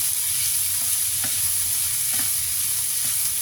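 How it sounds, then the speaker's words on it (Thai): Leftover larb fried rice being stir-fried in a hot pan, a loud continuous sizzle close by with soft rhythmic scrapes of the spatula every second or so. "ผัดแห้งๆนิดหน่อยนะคะ"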